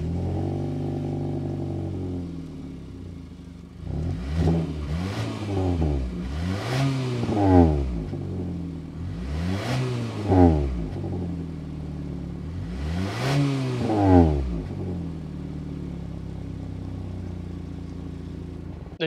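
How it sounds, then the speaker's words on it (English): A 2022 Nissan Altima SR with the 2.0 turbo engine idles, then its exhaust is revved in about five separate rising-and-falling bursts, each loud and close, with short idle pauses between them. "Let's go inside, start it up, so we can hear the exhaust then."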